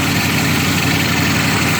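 A truck engine idles close by in a steady, even low rumble with constant vibration and no pauses or voices.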